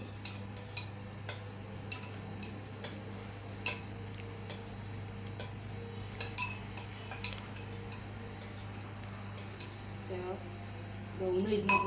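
Soft rhythmic ticking as a utensil stirs aloe vera gel for homemade hand sanitizer, light evenly spaced taps over a low steady hum, faint and close, with a few louder knocks near the end.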